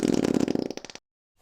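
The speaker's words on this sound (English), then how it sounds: "That dog farts morning, noon, and night" A dog breaking wind, one loud, close, rippling fart that sputters for about a second before cutting off into silence, with no talking.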